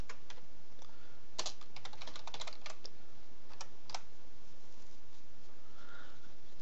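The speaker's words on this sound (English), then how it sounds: "I really can't type today." Fast bursts of typing on a computer keyboard during C++ programming, close and clear with irregular clusters of key clicks and short pauses, no talking.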